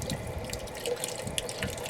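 Water drips and trickles from manual pool vacuum equipment during a pool opening, a close, continuous splashing patter with small irregular drops throughout.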